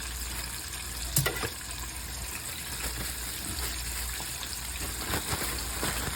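A chicken wing dipped in buttermilk and dredged in flour fries in hot grease, giving a steady, dense crackling sizzle with a sharp pop near the start and a few smaller spits later.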